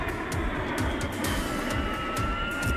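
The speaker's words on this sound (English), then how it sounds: "Here we see the Stratotanker flying with four A-10s out of Moody Air Force" A KC-135 Stratotanker flies in formation with four A-10 jets, heard as a steady, loud, broad aircraft engine roar that holds without a break, with no voices.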